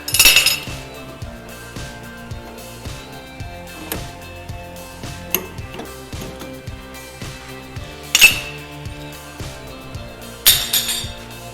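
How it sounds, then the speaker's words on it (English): A wrench tightening a fitting on a 1923 Lincoln motor car in a garage makes a steady run of close metallic ratcheting clicks, with a few louder clanks of metal on metal breaking the rhythm. "I'm going to finish this off with the other wrench."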